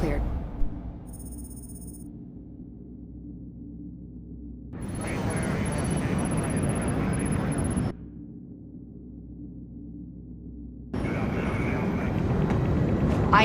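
A steady, low engine drone fills the cabin of a plane in Splinter Cell Blacklist. Two stretches swell into a fuller, breathier roar before settling back into the muted hum.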